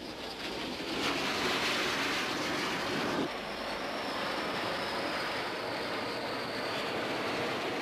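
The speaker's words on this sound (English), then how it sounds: "In the first wave, French-built Mystère fighter bombers." A steady, loud jet roar from French-built Mystère fighter bombers in flight, a broad rushing noise that swells then holds steady throughout with no talking.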